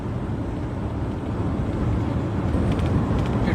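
A Ford Endeavour vibrates with a steady, dense low rumble close by, and a faint rattle creeps in toward the end. No one talks.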